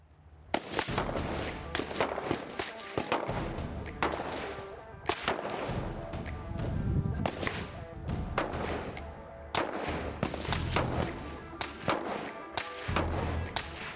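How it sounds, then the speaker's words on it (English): Gunfire cracks out on an outdoor shooting range, with many sharp, loud shots in irregular bursts and overlapping reports, some in quick succession, over a low background rumble. "Range is hot. Fire at will."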